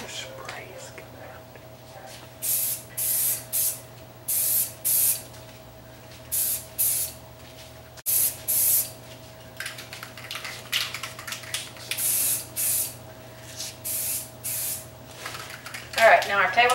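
Canned spray paint going onto a tabletop during a table refurbish, heard as repeated short bursts of loud hissing spray with brief gaps between them. A quiet background hum runs underneath.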